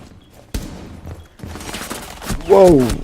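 Rainbow Six Siege gunfire on Xbox comes as a sudden loud burst of shots followed by more rapid fire, with a player's excited voice speaking over the action.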